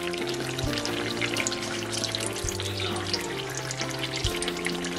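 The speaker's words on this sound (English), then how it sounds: "We are frying eggplants." Eggplant slices frying in hot oil, a dense steady sizzle with crackling pops, alongside low tonal hum and faint clinks.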